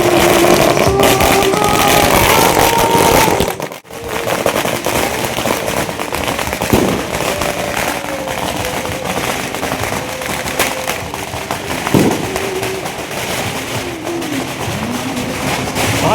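Firecrackers burst loudly and continuously as a groom's Thar arrives at a wedding hall for a reception, with dense crackling, sharp pops and a brief lull midway, over crowd and music.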